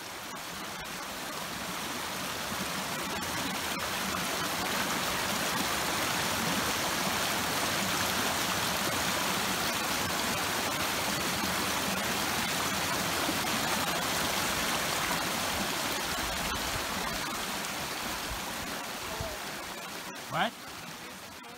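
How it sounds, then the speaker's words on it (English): A creek rushes steadily along a backpacking trail, a loud, close, continuous watery roar lasting the whole time, with speech also heard in places. "I kind of knew we were going to cross this creek"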